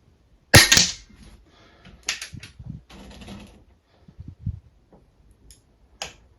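A high-end target rifle, shot straight out of the box, fires one loud, sharp crack with a short tail, followed by fainter mechanical clicks and handling clatter.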